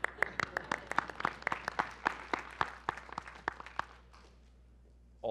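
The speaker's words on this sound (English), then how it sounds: "and I applaud you too" Clapping during a live online seminar: a quick run of sharp, close claps for about four seconds, then a quiet pause before a voice begins.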